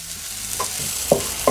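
A clove of garlic frying in a pan is stirred, a soft steady sizzle with a few sharp scraping clicks of the utensil against the pan near the end, close and clear.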